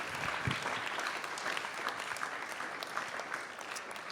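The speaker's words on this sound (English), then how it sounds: "So please give them a round of applause." An audience at a panel discussion applauds the panelists, a dense, steady wash of many hands clapping that carries on evenly throughout.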